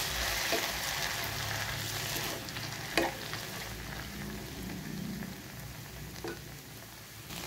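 Washed poha (flattened rice) stirred in a frying pan, a steady soft sizzle with occasional scraping clacks of a spoon against the pan.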